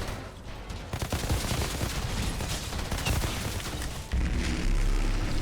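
Rapid bursts of video game gunfire from the shooter Outriders, loud and dense, with sharp repeated shots and booms running almost nonstop over a background of game effects.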